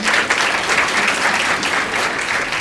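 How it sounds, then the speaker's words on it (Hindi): An audience at a coaching institute's award ceremony claps loudly and continuously, a dense, even burst of applause filling the hall with no talking over it. "जोरदार ताली बनती है।"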